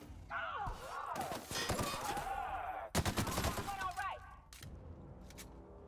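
Rapid gunfire in The Outer Worlds, a sci-fi shooter, rattling out in dense bursts with swooping energy-weapon whines, a sharp loud volley near the middle, then a final shot before it tapers off.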